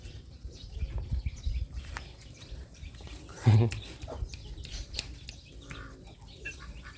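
Chickens cluck and chatter at a farmyard feeding, the calls fairly faint and scattered beneath people talking nearby, with one brief louder thump midway.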